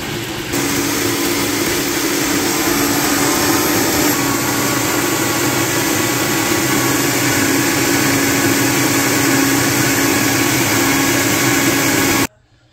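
Wet grinder grinding soaked urad dal, fenugreek, sago and flattened rice into idli batter: a loud, steady motor drone with a dense rumbling churn that runs unbroken for about twelve seconds before cutting off.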